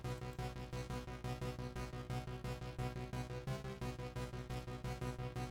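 An arpeggiated two-oscillator synth in a standard 90s style, played dry with no effects, cycles through steady rapid notes over a sustained low bass, dense and continuous with no voices.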